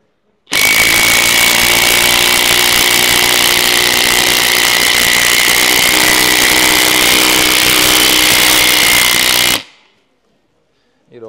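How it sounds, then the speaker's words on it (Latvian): Power screwdriver or impact driver driving a thick screw into a drilled hole in a building-renovation setting, a loud steady whirring drone with a bright whine that runs unbroken for about nine seconds, then stops abruptly, with no talk over it. "Pamēģini ieskrūvēt šitādu skrūvi."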